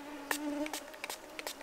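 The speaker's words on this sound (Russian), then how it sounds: "комары зажрали" Mosquitoes whine in a forest with a thin, steady buzz that stays close and faint, broken by a few soft brushing and tapping sounds.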